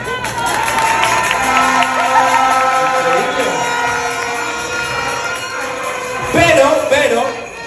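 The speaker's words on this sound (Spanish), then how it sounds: "Y se escuchan los aplausos" A crowd at a night show in Villa del Rosario, Zulia, cheers, whoops and applauds for a magician from Tokyo, with the noise swelling near the end and voices shouting through it.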